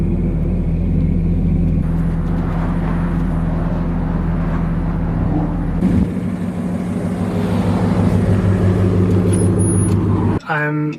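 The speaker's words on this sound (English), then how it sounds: "I'm gonna grab my truck, bring it around over here, and pretty much just hitch it up and pull it up the curb" A pickup truck idles and drives with a steady low engine rumble, towing a dirt bike up a curb, loud and close throughout with a brief shift in engine tone midway.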